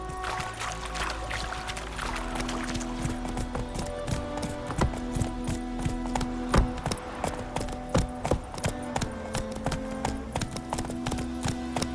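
Roach, Geralt's horse in The Witcher 3, trots along with steady, rhythmic clip-clopping hooves, close and clear, with a faint ambient bed and no talking.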